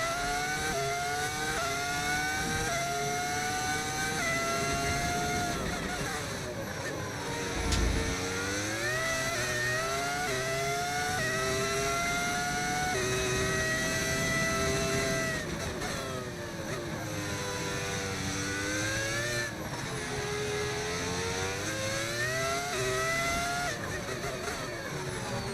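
A V10 Formula 1 car engine audio mod in the racing game F1 25 screams through rising and falling gear changes at high revs, continuous and prominent, with a voice speaking over it at times.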